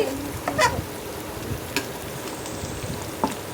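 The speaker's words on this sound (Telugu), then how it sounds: "ఈ మసాలాల్లోకి వేసేసుకుంటున్నానండి కలిపి పెట్టుకున్న చికెన్" Mixed chicken goes into fried masala spices inside a rice cooker, giving a soft sizzle with a few brief scraping stirs close by, and no one speaks.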